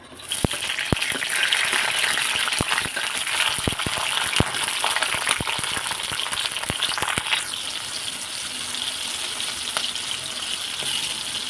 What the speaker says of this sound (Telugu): పచ్చిమిర్చి ఎంత వేగితే అంత టేస్టీగా వస్తుందండి